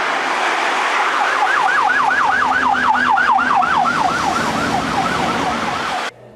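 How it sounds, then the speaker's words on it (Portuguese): Wailing ambulance siren sweeping up and down in rapid regular cycles, loud and steady over road traffic noise, pitch easing downward toward the end before cutting off abruptly. "E essa ambulância vindo em sua direção, ela faz um som agudo."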